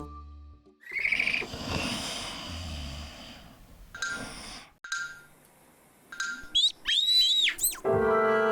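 A cartoon bird chirps and calls in short, high whistling warbles and rising-falling tweets between rustling and other cartoon sounds, close and clear, with no talking.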